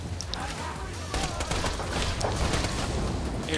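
Gunfire and an explosive burst from a thrown gun blowing up like a grenade in the video game Borderlands 2, a dense, sustained loud clatter of shots and blasts with a brief voice underneath.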